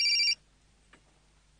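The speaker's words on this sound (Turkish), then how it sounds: "Aa telefon çalıyor" A telephone rings loudly with a bright electronic ringtone burst at the start, then cuts off, leaving a quiet room with faint sounds.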